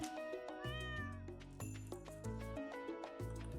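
A cat in the farming game Stardew Valley meows when petted, several short meows over cheerful game music, with a voice speaking briefly.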